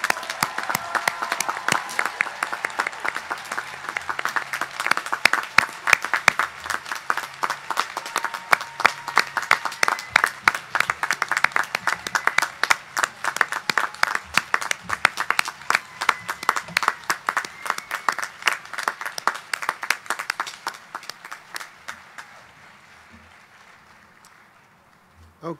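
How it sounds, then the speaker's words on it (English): Commencement crowd at Oglethorpe University applauds graduates in a long, sustained stretch of steady clapping with individual claps standing out, gradually thinning and fading toward the end. "Let's now recognize and applaud these graduates and give our warmest congratulations."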